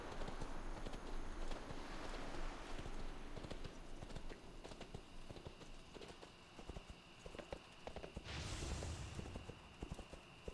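A horse's hooves clip-clop at a steady gallop in World of Warcraft, a rapid even rhythm that sits at low volume under game ambience, with a brief whooshing burst near the end.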